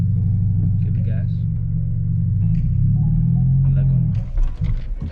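A manual car fitted with a racing clutch pulls away in first gear, its low engine rumble rising steadily and close, with people talking over it throughout.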